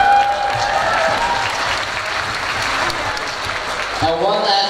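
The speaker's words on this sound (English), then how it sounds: "one last big round of applause for all of our performers" Audience applause at a high school Chinese Lunar New Year celebration for the performers, a sustained dense crowd clapping throughout, moderately loud, with a voice beginning to speak over it at the end.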